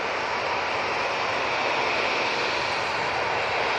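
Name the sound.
easyJet jet airliner on its takeoff roll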